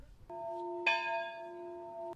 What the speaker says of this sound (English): maintaining the ritual of ringing the bells up in the tower